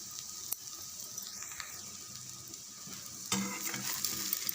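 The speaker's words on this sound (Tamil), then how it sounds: "இந்த சைடு கொஞ்சம் வேகட்டும்." An egg omelette cooking in a pan, a quiet steady sizzle with a few sharp utensil clinks and a louder burst of frying toward the end, no voices.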